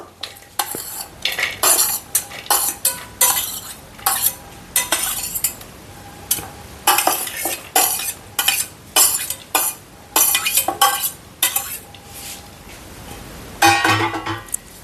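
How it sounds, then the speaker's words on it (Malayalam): Chopped coconut pieces, green chili, ginger and onion tumble into a clay pot for a stingray curry, bringing repeated bursts of stirring, scraping and clinking with a light sizzle, loud and close, with no talk. "നമ്മൾ ഈ അരിഞ്ഞു വെച്ചിരിക്കുന്ന തേങ്ങാക്കൊത്തും മുളകും ഇഞ്ചിയും ഉള്ളിയെല്ലാം കൂടെ നമുക്ക് ഈ ചട്ടിയിലേക്കിടാം"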